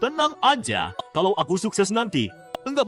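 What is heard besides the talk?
No everyday noise stands out behind the speech.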